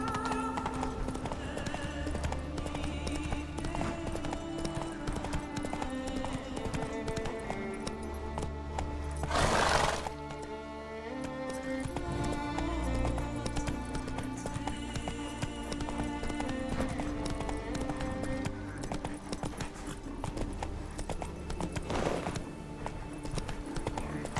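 Roach the horse gallops in The Witcher with rapid, rhythmic clip-clopping hooves heard close and continuously over a long stretch, joined by a brief whinny and music beneath.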